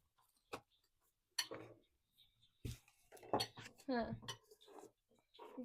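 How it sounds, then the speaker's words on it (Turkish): A spoon stirs and clinks against a bowl while making cinnamon rolls, with repeated scraping taps and knocks mixed with people talking nearby. "Karıştır, kaşıkla karıştır."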